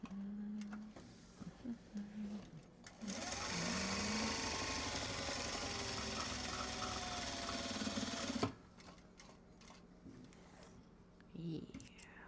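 Sewing machine stitching slip pockets onto small box bags, running in one steady, fairly quiet burst of about five seconds with quieter handling noise before and after.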